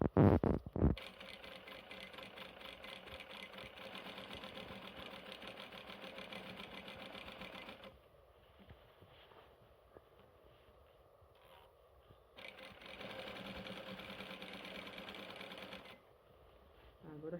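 A sewing machine stitches a skirt seam in two long steady whirring runs separated by a quieter pause, close and loud, with brief handling noise at the start.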